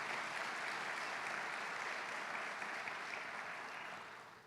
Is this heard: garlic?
no